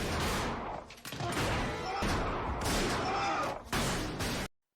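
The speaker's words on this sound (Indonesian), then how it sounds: "aksi mereka dapat dengan cepat diketahui dan baku tembak pun tidak dapat dihindari" Dense bursts of gunfire crackle and rattle almost continuously in a film shootout at a Free State Army barracks, with overlapping shots and a loud, chaotic texture before cutting off abruptly.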